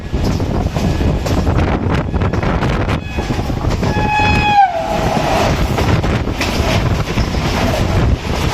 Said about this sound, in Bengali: তো এই যে আমাদের ট্রেন ছেড়ে দিয়েছে